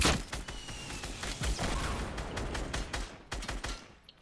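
Rapid bursts of gunfire in the Fortnite video game crackle repeatedly over several seconds, dense and fairly close, with a brief voice faintly mixed in.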